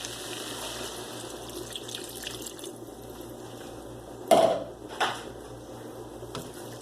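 Two cups of water poured into a pan holding a chili pack and chicken gravy mix for a turkey stir-fry, a steady faint splash with a couple of sharper clinks near the end.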